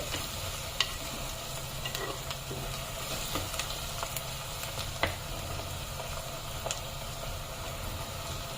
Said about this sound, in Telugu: కొంచెం మగ్గాయి, ఇంకా బ్రౌన్ కలర్ వచ్చే వరకు వేసుకోవాలి.